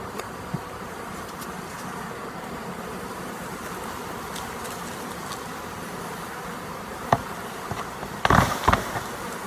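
Honeybees hum steadily at a hive in an apiary in a low, continuous drone, with a few sharp clicks and knocks near the end.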